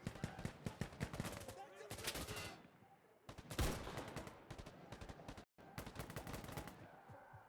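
Gunfire in the video game Insurgency Sandstorm, bursts of rapid automatic shots in quick clusters with short gaps between them, loud and close.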